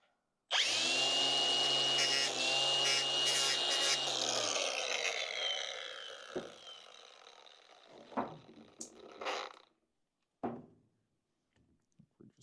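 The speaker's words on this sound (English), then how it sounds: "I'm also going to take my flap wheel and grind the coating off of that" Flap wheel on a power tool grinding coating off a metal brake part for a 1962 C10 hydroboost conversion, a loud steady whine for about four seconds, then winding down with a few short bursts and thunks.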